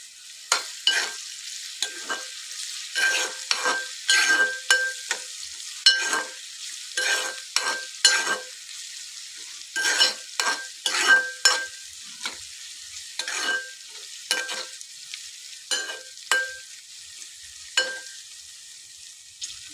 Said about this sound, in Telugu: ఆల్రెడీ మంచిగా ఫ్రై అయిందండి క్యాప్సికము